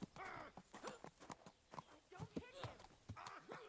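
Horse hooves clopping in the medieval game Kingdom Come: Deliverance 2, a quick run of close, repeated clip-clop beats under steady talk, with a brief whinny-like cry.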